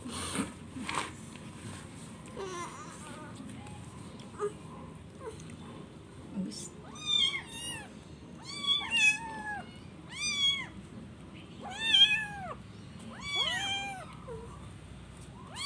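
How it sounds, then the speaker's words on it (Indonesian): Several cats meow repeatedly at close range while eating sausage and chicken, with rising and falling cries, over faint background rustling and a quiet voice. "Makan sosis sama makan daging ayam kucing hari ini."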